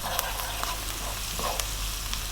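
Onions with ginger garlic paste and salt frying in a pan over above-medium heat, a continuous close hiss and sizzle with a few soft stirring clicks.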